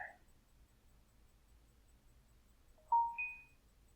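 A phone rings with a short two-tone electronic chirp near the end, rising in pitch, loud against a quiet room.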